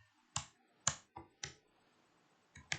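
Keys tap on a computer keyboard while code is entered in a command window: about five separate crisp, close keystrokes in an uneven rhythm, quiet and with no talking.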